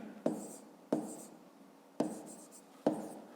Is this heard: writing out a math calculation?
yes